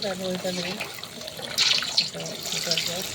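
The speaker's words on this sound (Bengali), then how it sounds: "এবার এর মধ্যে দিয়ে নিচ্ছি পরিমাণ মতো জল" Water splashes steadily as it is poured into a cooked spiced masala gravy, a continuous close trickle heard under a person talking.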